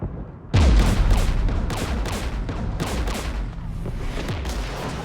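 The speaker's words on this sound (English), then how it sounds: "We're taking fire." Gunfire and booming blasts in the video game Mass Effect 3, a sudden heavy impact followed by rapid repeated shots and explosions echoing across a battlefield, loud and sustained.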